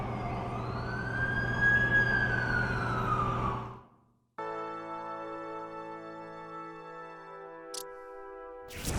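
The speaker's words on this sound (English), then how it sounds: "That's the ambulance I called." Ambulance siren in the video game The Amazing Spider-Man 2, a loud wailing sweep that rises and falls for several seconds, cuts out abruptly, then gives way to sustained tonal game sounds.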